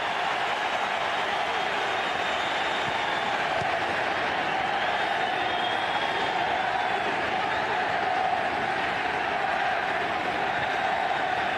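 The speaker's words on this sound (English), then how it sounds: "The crowd are absolutely in raptures here in the MetLife Stadium." A stadium crowd at MetLife Stadium during a Juventus versus Barcelona International Champions Cup match gives off a dense, continuous roar of cheering and applause, held steady and distant, with no break in it.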